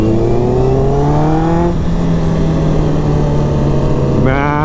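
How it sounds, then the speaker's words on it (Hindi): Cars, bikes and scooters travel a road on the way to Jaipur, making a loud, continuous engine drone close by whose pitch climbs, dips and climbs again, with no talking. "यहाँ पे गाड़ियाँ भी आ रही हैं, बाइक्स भी हैं, स्कूटी वाले भी हैं"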